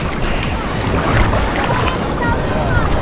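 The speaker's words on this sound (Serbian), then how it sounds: "Atlantski okean." Atlantic Ocean surf rolls in near a breakwater as a loud, continuous broadband wash, with buffeting wind throughout and no breaks.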